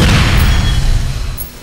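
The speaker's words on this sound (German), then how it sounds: "Beim dritten Piepen explodiert's." Grenade explosion in the video game APB Reloaded, a single loud booming blast that hits at once and rumbles away over about a second and a half, heard alone.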